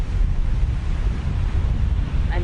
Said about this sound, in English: the sound of the waves and the water